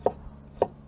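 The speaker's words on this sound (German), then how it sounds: "Dann kommen wir auch schon zum Knoblauch. Den nehmen wir uns und hacken uns ihn einfach." A knife chops garlic on a board, two sharp, close knocks roughly half a second apart over a quiet background.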